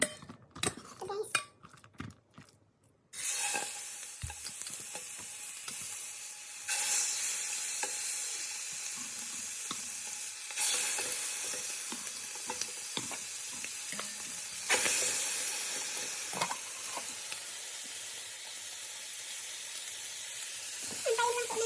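Chicken for adobo fries in a hot pan with a strong, continuous sizzle, broken by scraping and clattering utensils and stirring, and a few bursts of louder spattering.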